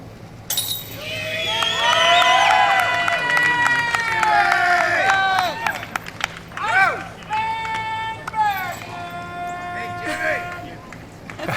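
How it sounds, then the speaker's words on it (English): A disc golf tournament crowd cheers and whistles, a broad swell of voices that rises, peaks and fades into scattered calls, with people talking over it. "You gotta love that crowd response."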